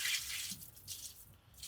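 Dirty rinse water from washed greens poured out onto garden plants, a short soft splash and trickle with hissy spatter, fairly faint and tapering off over under two seconds, no voices.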